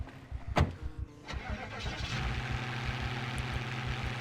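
A car engine in the Project Zomboid zombie survival game cranks with a short burst, then catches and settles into a steady, loud idle rumble heard close up with no talking.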